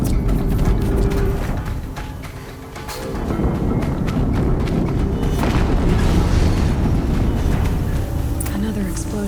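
Heavy, continuous booming and rumbling from explosions in the video game Horizon Zero Dawn, loud and close, with a brief dip in intensity before the blasts swell again and roll on.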